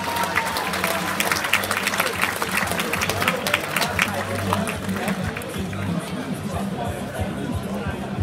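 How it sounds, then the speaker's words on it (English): Loud crowd applause and cheering for two fighters at a Kickfit Gym kickboxing event, a dense sustained clatter of clapping mixed with crowd chatter and shouts throughout. "Let's give a big round of applause to opponent, Luke Walker."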